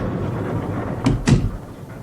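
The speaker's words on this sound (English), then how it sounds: "Shut the door behind you." A door on a cargo ship is pushed shut, giving two quick close knocks, the second heavier, over a low steady room hum.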